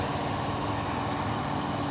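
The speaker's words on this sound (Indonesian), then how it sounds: "Masuk lagi ya truk Fuso ini" A Fuso truck's engine rumbles steadily as it drives in, a continuous low diesel drone with no break across the short stretch.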